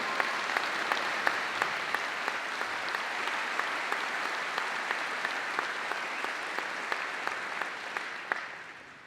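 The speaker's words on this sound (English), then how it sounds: "directed by Professor Chris Holding, a warm round of applause as they have created a special atmosphere." Sustained applause from a sizeable crowd at a university graduation ceremony, steady and even throughout before tapering off at the end.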